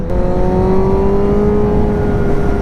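A 1000cc sport motorcycle accelerates with a loud, close, steady engine whine that climbs smoothly in pitch throughout.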